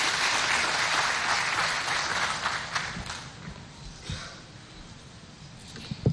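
An audience applauds at an official launch ceremony for a youth employment project. The clapping starts full and steady, then thins and fades out, leaving a few scattered claps.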